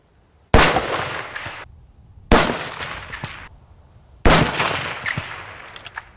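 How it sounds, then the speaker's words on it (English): Three gunshots from an Encore handgun fired at a 500-yard target, each a sharp loud crack with a decaying tail, spaced about two seconds apart, outdoors and with no speech. "Three-shot group with the Encore handgun at 500 yards"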